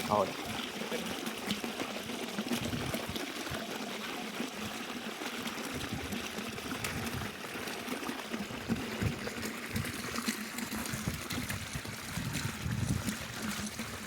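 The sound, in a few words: water gushing from a solar-powered water pump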